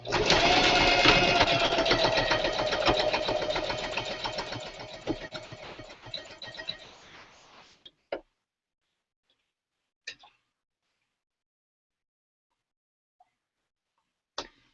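A sewing machine stitches a seam in a steady, fast mechanical whir for several seconds, then stops, followed by a few isolated clicks in near silence.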